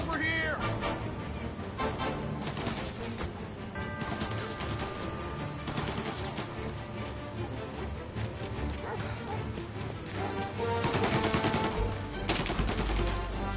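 Gunfire in Mafia Definitive Edition rattles steadily through a dense, loud game soundtrack, with repeated shots and bursts blending into constant action noise.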